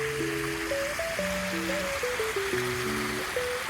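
Water runs steadily through a small landscaped channel in a lakeside park, a soft continuous wash with clear tonal sounds layered over it.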